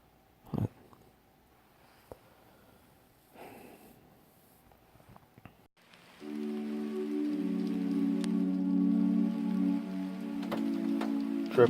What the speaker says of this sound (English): drip drop, there goes the rain